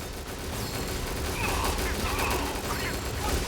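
Rapid bursts of special-skill gunfire from Janus in the mobile game Counter Side, dense crackling shots over game effects and music, loud and continuous with someone talking over it.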